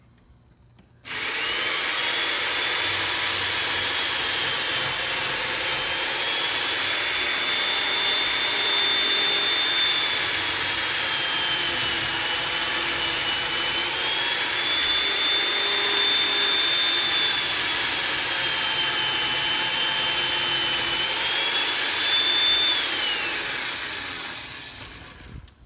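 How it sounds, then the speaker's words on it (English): Chain mortiser cutting a mortise pocket into a timber frame truss, starting with a sudden loud whine that holds steady and grinding for over twenty seconds, its pitch shifting slightly under load before it winds down. "we're going to be mortising in the tenon into this pocket right here with this chain mortiser"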